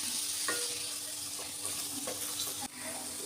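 Small pieces of chopped tomato fry in hot oil over onion paste for a fish curry, a steady close sizzle with a few light clinks and stirring scrapes.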